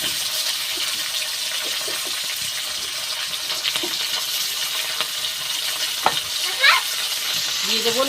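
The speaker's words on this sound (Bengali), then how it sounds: "পটলগুলো ভেজে নেব।" Pointed gourd pieces frying in oil with a continuous bright sizzle, a few scraping stirs and a brief higher squeak near the end.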